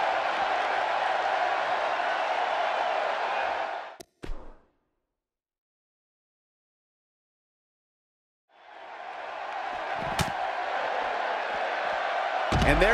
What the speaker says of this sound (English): This capacity crowd,